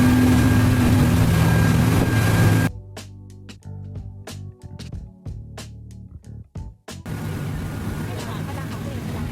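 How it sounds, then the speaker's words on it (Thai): A boat heading out to the Surin Islands gives a steady loud engine and water rumble that cuts out midway into a quieter, uneven section with knocks and scattered sounds, then resumes just as strongly. "เราก็ขึ้นเรือเดินทางไปยังหมู่เกาะสุรินทร์แล้วนะคะ คะบรรยากาศบนเรือค่ะ"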